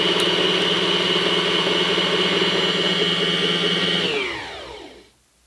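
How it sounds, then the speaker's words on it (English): A Janome 2212 sewing machine winds a bobbin with a loud, steady mechanical whir for about four seconds. The motor then spins down and falls silent as the bobbin fills. "Now you just press the foot pedal and watch it wind the bobbin."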